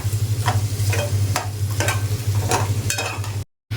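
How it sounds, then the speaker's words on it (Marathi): Sliced onions fry in a pan for a mutton dish, a loud continuous sizzle broken by regular scraping strokes of a spatula about every half second, close-up with no voices, ending in a short silent gap. "आता कांदा आपण ट्रान्सपरंट कर करून घेणार आहोत गोल्डन ब्राऊन"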